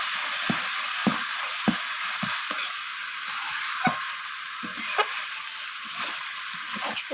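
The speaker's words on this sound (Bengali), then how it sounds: "তো সমস্ত কিছু মশলা আমি চিকেনের সাথে ভালোভাবে এইভাবে নাড়াচাড়া করে ভালোভাবে মশলাগুলোকে ভেজে নিচ্ছি চিকেনের সাথে।" Chicken pieces frying with spices over a wood-fired stove, giving a steady, close hiss. Sharp scraping clicks from stirring break through at irregular intervals.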